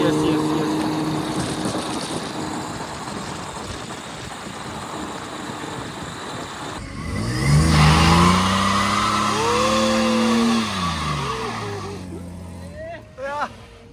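A sports car with a modified exhaust, seen among classic cars in Kazakhstan, revs hard at close range. Its engine note climbs and falls through several loud sweeps after a stretch of quieter idle, with people talking throughout.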